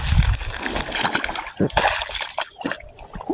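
Water splashes and sloshes as someone wades through a shallow pond while checking fish traps, with irregular sloshing bursts and trickles close by and a voice speaking intermittently.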